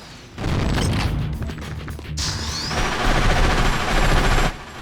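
Rapid, continuous bursts of gunfire with heavy booms from the PlayStation 2 video game Spawn: Armageddon, loud and dense for several seconds, with no talking.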